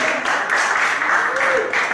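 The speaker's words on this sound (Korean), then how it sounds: "여러분, 박수 한번 부탁드리고요." Audience applause at a Korean talk-show stage event, a steady wash of clapping filling the room at moderate loudness while a voice speaks over it.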